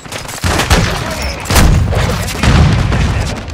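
Loud shotgun blasts in a video game, three heavy booming shots spaced about a second apart, each followed by a lingering rumble, with faint voices in the background.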